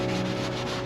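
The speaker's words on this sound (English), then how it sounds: "I'm just doing one last clean with wax and grease remover" Wax and grease remover wiped across a bare, cleaned-down BMW track car part readied for high-temperature paint, a steady close rubbing with a faint pulsing rhythm of cloth strokes, no voices.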